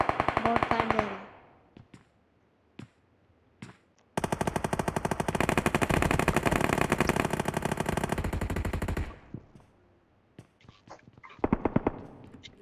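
Bursts of automatic gunfire in the battle royale game BGMI: a short volley, sparse single shots, then a long sustained rapid-fire stream, followed by more scattered shots and a final burst, loud and close.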